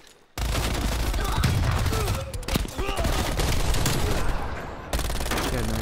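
Rapid automatic gunfire in the video game Black Ops Cold War, dense bursts of shots over several seconds with brief pauses and game effects mixed in.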